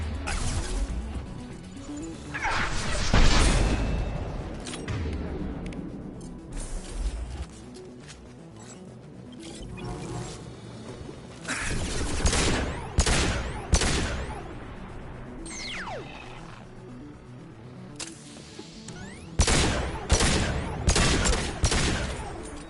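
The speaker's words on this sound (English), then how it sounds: "Firing a high-impact shot." Heavy weapon shots and impacts in Mass Effect Legendary Edition, a series of loud, sharp bursts with crashing hits scattered across a busy battle soundscape, some in rapid clusters.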